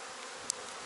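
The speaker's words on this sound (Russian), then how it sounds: "Вот я ношу такое ведро вместе с пчелами." Honey bees swarm around a bucket carried through an apiary while honey supers are being removed, giving a steady close buzzing hum with one brief higher whine midway.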